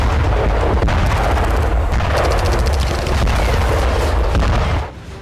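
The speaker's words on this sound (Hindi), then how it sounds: "बारूदी धमाकों से कांपती जमीन और धुआं धुआं आसमान, ये नारगोनो काराबाग है।" Heavy artillery blasts from the Nagorno-Karabakh war boom and rumble continuously, with dense, overlapping detonations and crackling bursts, loud throughout before a brief drop near the end.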